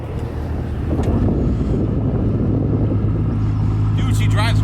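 A wrecked Mustang GT under way, its engine a steady low rumble mixed with heavy wind buffeting from inside the moving car, loud and continuous.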